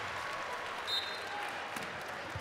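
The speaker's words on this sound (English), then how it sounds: "he gets a nice ovation from the Heart Center crowd" Home crowd at a college men's basketball game, Lafayette at Holy Cross, applauding as a player leaves the court; a steady wash of clapping at moderate distance for the whole stretch.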